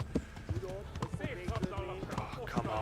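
Horses gallop with quick, uneven hoof clatter in the medieval game Kingdom Come Deliverance, mixed with shouting voices and other game sounds over the top.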